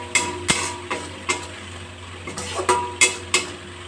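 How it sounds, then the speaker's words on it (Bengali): A spoon scrapes and knocks in a pan as spices with salt are stirred over a low gas flame for an aloo, potol and kumro curry; regular close clinks and taps over a faint steady hum, no voices. "এবার মশলাটা একটু নাড়াচাড়া করে দেবো।"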